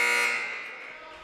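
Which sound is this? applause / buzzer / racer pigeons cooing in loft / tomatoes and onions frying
buzzer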